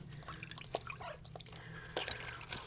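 A fabric mask soaks in a vinegar and water solution in a sink, faint sloshing and dripping with scattered small splashes and squishes, close and quiet.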